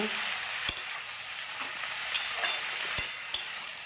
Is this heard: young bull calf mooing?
no